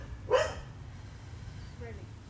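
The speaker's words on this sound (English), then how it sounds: "Don't mind my dog, she's a little sassy." A pet dog named Riley gives one short, sharp bark nearby in a quiet room, then a faint second yip follows about a second and a half later.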